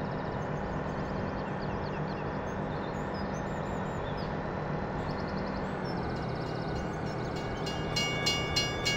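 A train in the video game Farming Simulator 17 rumbles steadily past with a continuous mechanical drone and clanking wheel noise, rhythmic clicks rising toward the end and faint bird-like chirps above, no talking.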